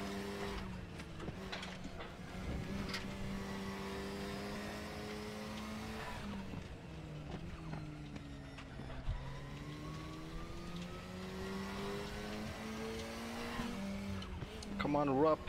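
A GT4 race car in the RaceRoom racing game runs at a sustained engine drone with shifting pitch and swings into oversteer, with tire squeal and skidding noise close by under a voice talking.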